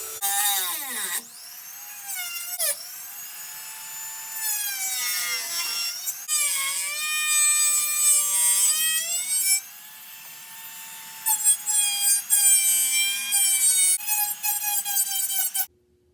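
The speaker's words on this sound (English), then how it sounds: "We gotta grind a little bit off of here." A power tool grinds away at the plastic dash of a 1980–1986 Ford truck to make room for a double DIN head unit, its high whine running in long loud bursts that rise and fall in pitch with brief pauses between.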